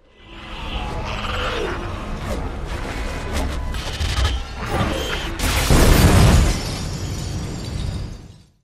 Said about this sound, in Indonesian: Namun pada akhirnya seluruh cermin di Mayflower hancur berkeping-keping.